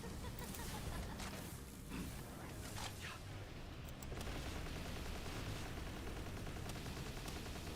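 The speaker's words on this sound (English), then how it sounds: "It's so much easier to use the Gatling gun." A Gatling gun firing in Palworld, a sustained, dense roar of rapid shots that runs unbroken across the whole stretch at moderate level.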